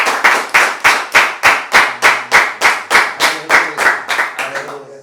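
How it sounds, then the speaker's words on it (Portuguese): A church congregation at a morning service claps together in a steady, even rhythm, about fifteen loud unison claps in quick succession that loosen and soften toward the end. "Aplauda o Senhor, irmãos."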